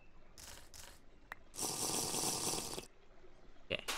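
Water in RLCraft, a Minecraft modpack, splashes and pours in short bursts, then a longer rushing fill of about a second, fairly faint and close with brief clicks between.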